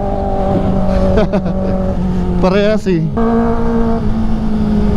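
A Suzuki Hayabusa motorcycle engine drones steadily at a busy roadside in Lucban, Quezon, then snaps into a sharp rev that rises and falls midway before settling back to a steady tone. A brief spoken remark is heard.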